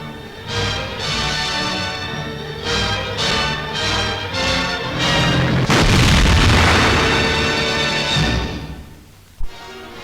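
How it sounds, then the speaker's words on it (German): Explosions blowing up telegraph poles in 1943 wartime newsreel footage: a series of heavy booms, the biggest blast rolling on for several seconds, with faint narration in the background. "Die Telegrafenmasten werden gesprengt."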